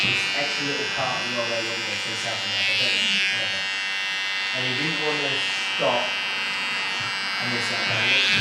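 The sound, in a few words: electric trimmer cleaning up neckline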